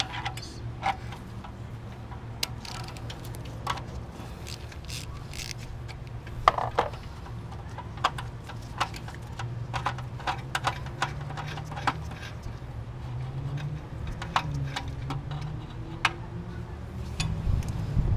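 A ratchet wrench with a 17 mm socket works on the turbo oil feed hose of a 2012 Hyundai Genesis. Sharp, close clicks come in scattered short bursts over a low steady background hum.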